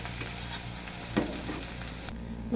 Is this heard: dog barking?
no